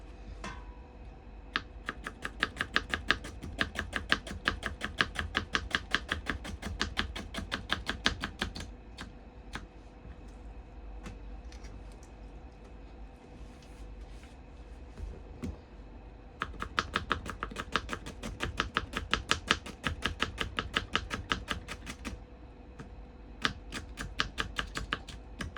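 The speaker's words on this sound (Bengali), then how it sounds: "পেঁয়াজটা কেটে নিই।" A knife chops an onion on a cutting board in quick, even bursts of close tapping, broken by short pauses before the rhythm starts again.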